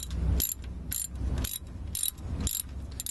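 A socket wrench ratchets in quick repeated bursts, roughly every half second, close up while turning the long starter bolt on a 1998 Ford Explorer, with no talk.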